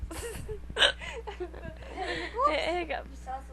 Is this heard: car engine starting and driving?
no